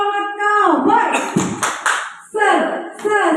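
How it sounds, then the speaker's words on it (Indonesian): A school group does a rhythmic spirit clap, with sharp clusters of claps in a quick pattern between loud chanted voices. "Tepuk semangat kau, boy."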